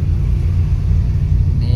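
A Honda Accord Cielo sedan crawling in congested afternoon traffic, a steady low engine and road rumble heard from inside the car, loud and unbroken throughout.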